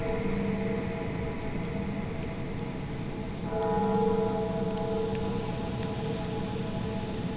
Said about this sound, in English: They make a whole bunch of dreadful ambient / heavy rock based on dungeon synth, dream, and cosmic horror